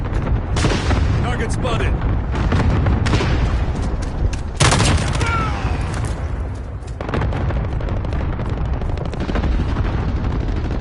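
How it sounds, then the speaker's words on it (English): Cluster strike explosions and gunfire burst out in quick repeated booms and cracks during a Call of Duty Modern Warfare match. A short radio voice line cuts in over the loud, dense barrage. "Allied cluster strike incoming."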